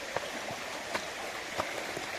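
A river stream running through coniferous woodland, a steady close rush of flowing water with a few soft splashes and gurgles and no voices.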